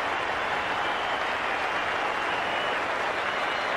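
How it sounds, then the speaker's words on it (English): Spectators at an Australia v West Indies 1993 Test cricket match applaud a batsman's half-century, a steady distant wash of crowd clapping with no break. "Applause from his teammates in the Australian dressing room and a standing ovation from certain areas of the crowd."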